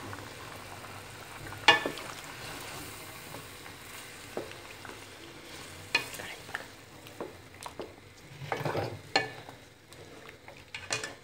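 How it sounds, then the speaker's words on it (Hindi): Chicken karahi with cream, yogurt and spices fries in a pan with a soft sizzle, while a spoon stirs and scrapes in irregular clinks and knocks. "उसको अच्छी तरह से अब हम इसको भून लेंगे।"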